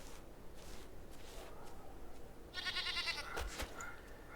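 Goats bleat in the video game Enshrouded, a quivering, nasal call that rises partway through over faint ambient noise and is followed by a short clatter of clicks.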